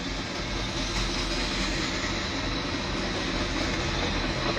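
A loud train passing nearby makes a dense, continuous broadband roar that holds steady at full strength throughout, with no voices over it.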